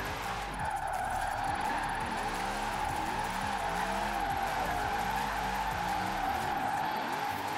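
Car tires in the Forza Horizon 4 video game squeal and skid continuously while sliding, a loud steady screech over a wavering engine note, with no talking.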